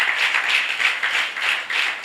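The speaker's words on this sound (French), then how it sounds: "Applaudis pour le roi des rois." A church congregation claps in a fast, even rhythm, the dense bursts of many hands swelling and dipping steadily for about two seconds, close and fairly loud with no voices on top.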